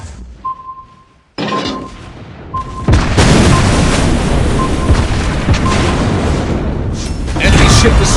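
In a naval combat video game, a destroyed enemy ship explodes in a sudden loud boom that rolls into a long, sustained roar, with faint electronic tones and beeps before it.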